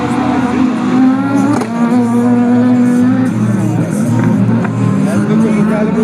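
A rally car races on the Vilkyčiai rally track, its engine droning and shifting pitch at a distance beneath a murmuring crowd and voices.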